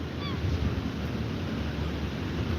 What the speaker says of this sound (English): tides are high, so you see the waves behaving differently.